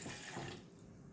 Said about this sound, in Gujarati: તો હું 1 કપ જેટલું પાણી લઉં છું.